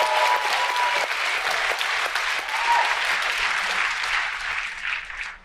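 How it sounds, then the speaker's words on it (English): A large audience applauding loudly and steadily for several seconds, dense clapping that tapers off at the end. "clap it up."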